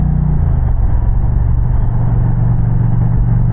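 An Indian Challenger motorcycle with a Hawks Nest exhaust gives a loud, close, deep rumble that shifts slightly in pitch early on, then holds steady.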